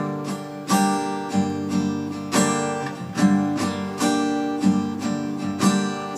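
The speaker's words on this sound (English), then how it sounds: "This is actually a 16 beat pattern." Acoustic guitar strummed in a 16-beat pattern for a song chord lesson, with rhythmic repeated chord strokes and accented downstrokes, played alone and up close.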